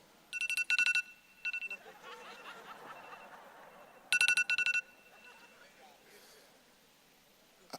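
A phone alarm rings during a sermon, sounding as short repeated bursts of electronic beeps in two clusters, with crowd murmur and laughter between them.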